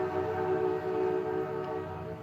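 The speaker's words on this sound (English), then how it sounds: "Train's coming." A train approaches with a sustained, steady horn-like drone and rumbling rail noise, loud and continuous throughout.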